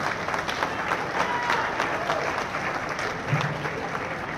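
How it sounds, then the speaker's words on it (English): A crowd applauds Lisa at a bowling hall of fame induction ceremony, sustained even clapping filling the whole stretch with a faint murmur of voices beneath. "How about another big round of applause for Lisa?"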